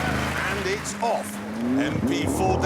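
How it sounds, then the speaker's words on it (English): A McLaren MP4-12C with a double-clutch gearbox accelerates on a race track, its engine note climbing in pitch with quick shifts, loud and close, while someone talks over it. "MP4-12C may sound like a fax machine"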